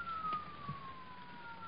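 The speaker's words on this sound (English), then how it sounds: "Those are police cars, Tony, coming here." Police car siren heard from a distance, a thin steady wail drifting slowly downward in pitch, faint and held for the whole moment without talk.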